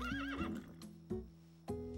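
A horse in a cartoon neighs with a wavering whinny, followed by a few sharp hoof clops at steady intervals, close and clear.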